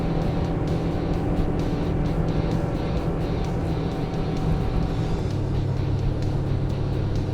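A 2017 Smoker Craft Pro Angler 172 fishing boat runs at speed, its outboard engine giving a steady, loud drone with hull and water rush throughout and a slight shift in tone near the end.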